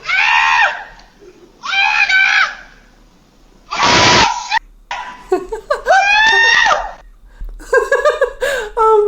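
A man screaming after a goat headbutts him: loud, high-pitched shrieks in several close bursts with short gaps, one harsh noisy burst in the middle, close to the microphone.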